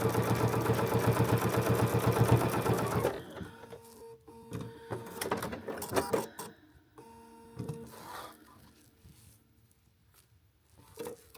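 A sewing machine stitches jelly roll strips for a quilt-as-you-go potholder in a fast, loud, close mechanical run lasting about three seconds, followed by quieter fabric handling and light clicks.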